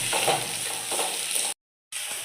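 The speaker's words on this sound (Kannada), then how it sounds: "ಕ್ಯಾಪ್ಸಿಕಮ್ ಹಾಕೊಂಡು ಚೆನ್ನಾಗಿ ಫ್ರೈ ಮಾಡಿ" Capsicum fries in oil for capsicum rice, a dense close sizzle with light stirring, cut by a short gap of silence before resuming.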